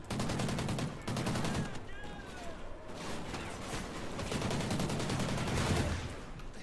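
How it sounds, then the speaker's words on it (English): Call of Duty Ghosts campaign gunfire, dense automatic bursts and overlapping shots rattling continuously at moderate loudness, with voices faintly under the battle noise. "give me covering fire"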